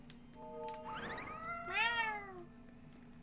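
A cat meows twice in the video game Tales of Berseria, a short rising mew followed by a longer, louder meow, close and clear over a quiet background hum with no talking.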